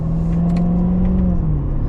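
A 2015 Chevrolet Corvette C7 2LT automatic with its front-mounted engine humming at a steady cruise, a smooth, loud drone heard from inside the cabin with faint road rumble.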